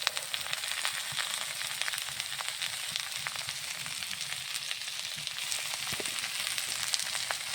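Cauliflower sizzling as it hits hot oil with fried onion and chili in a pan, a dense steady crackle and hiss with occasional stirring scrapes, close and continuous without talk.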